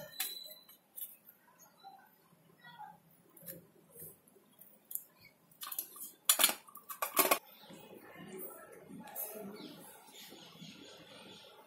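A bread omelette is cut into four pieces in a pan. Quiet, scattered metallic clinks and scrapes come from the utensil against the pan, with a few sharper taps near the middle and softer scraping afterward.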